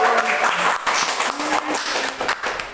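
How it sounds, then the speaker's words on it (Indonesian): Applause from a group during a talk-show style discussion, fairly loud clapping mixed with overlapping voices and a few cheers, lasting the whole moment. "Tepuk tangan dulu dong buat tips and triknya ya ampun."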